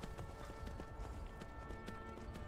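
Horse hooves clip-clop at a steady quick pace in the video game Skyrim, faint and low under dense game ambience.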